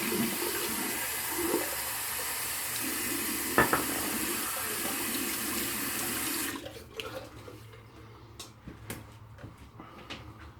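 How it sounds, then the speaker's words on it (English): A bathroom tap runs fresh warm water into a sink in a steady, close rushing stream, then shuts off, leaving small clinks and handling knocks. "So fresh warm water."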